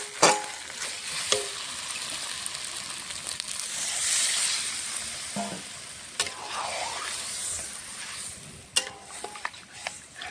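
Fish curry with boiled potatoes being stirred in a pan after the spice base has cooked down: a low, soft sizzle runs under intermittent scraping and clattering strokes of a spoon, with a few sharper knocks near the start and end.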